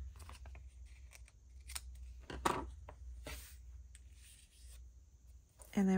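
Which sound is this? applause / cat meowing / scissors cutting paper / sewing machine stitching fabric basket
scissors cutting paper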